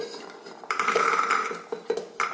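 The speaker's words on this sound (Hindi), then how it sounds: "कुकर में हम डालते हैं छोले।" Chickpeas tipped into a metal pressure cooker for chole masala give a close, bright clatter of pot and utensil clinks, with a sustained rattling burst in the middle and a few sharp knocks after it, and no voices.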